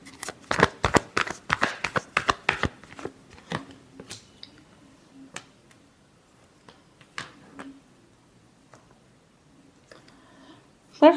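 Tarot cards are shuffled in quick riffling bursts up close, loud at first, then trailing off into sparse soft card taps and handling sounds.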